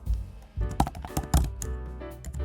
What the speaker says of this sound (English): One way to do this is by typing in